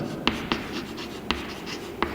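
A pen scratches across paper in short handwritten strokes, with a few sharper taps as letters and symbols are written out during a chemistry lecture.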